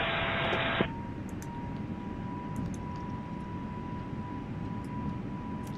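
Airliner engines spooling to takeoff thrust in a flight simulator on departure from Gunnison, Colorado, toward Denver: a steady, loud broadband roar that holds constant throughout, opening with a brief hissy burst.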